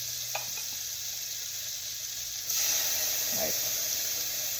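Butter melting in a pan as garlic goes in for a chicken stir fry with garlic sauce, giving a steady close sizzle that grows louder partway through, with a few light clinks of a utensil.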